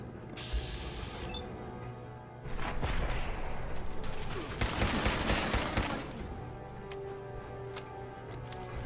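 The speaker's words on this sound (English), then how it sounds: "Open fire." Gunfire in Fallout 4 during a fight, with dense bursts of rapid shots and crashing impacts that swell in the middle and then trail off, heard over game sounds with a brief voice.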